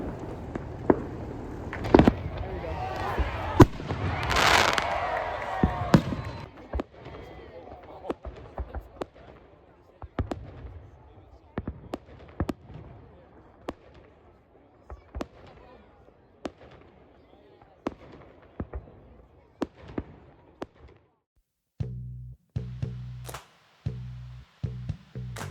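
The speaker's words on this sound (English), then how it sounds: "There was so much fireworks going off all around us, we didn't even know where to point the camera." Fourth of July fireworks going off all around, with a loud burst early on, then a long series of sharp bangs and crackles, some near and some far, at uneven intervals; a voice is heard at times.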